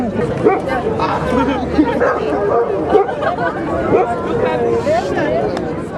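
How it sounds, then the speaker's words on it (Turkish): Street dogs barking at an outdoor protest square in İzmir, with scattered barks and yips rising over a constant babble of crowd chatter and nearby voices. "Açıklama sırasında her eyleme gelen 6 sokak köpeğinin ilginç oyunları da herkes tarafından ilgiyle izlendi."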